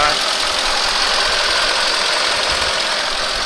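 A 2001 Mercedes ML55 AMG engine idles steadily with an even, continuous rumble and hum, close by and fairly loud, with no voices.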